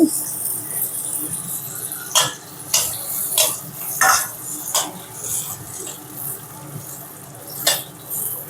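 Hot oil ladled over pongadalu frying in a pan gives a steady crackling sizzle, punctuated by a handful of sharp splashy bursts at irregular intervals, close and moderately loud.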